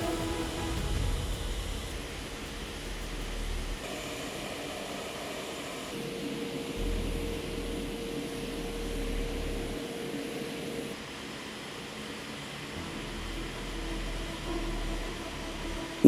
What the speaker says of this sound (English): One after another, the C-17 aircraft lift off and begin the long flight to Qatar.